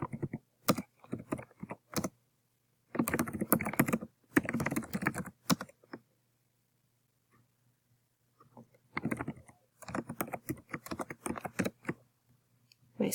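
Fingers type on a computer keyboard, with bursts of rapid quiet key clicks separated by pauses, close and alone in a silent room.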